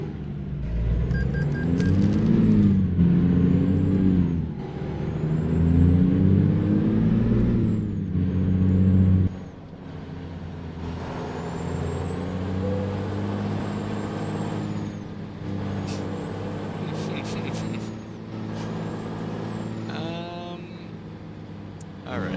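A truck's air brake releasing in American Truck Simulator, a hiss over the steady rumble of an idling diesel engine, with someone talking throughout.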